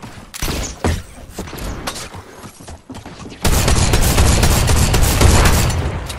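Shotgun fire in Fortnite: a few sharp blasts early on, then a dense, loud stretch of rapid overlapping gunfire and impacts that fills the second half.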